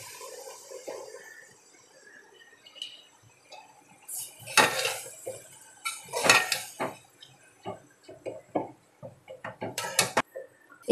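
Crumbled roti pieces mixed with ghee in a pan, heard as a spoon scraping and clinking against metal in irregular bursts, quiet at first and then growing busier and louder.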